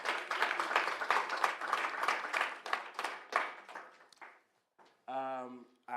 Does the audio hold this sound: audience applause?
yes